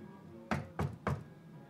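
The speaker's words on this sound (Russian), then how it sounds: "А тут можно во все стучать." Three firm knocks on an apartment door in the video game Heavy Rain, evenly spaced, close and hollow, over a quiet ambient hum.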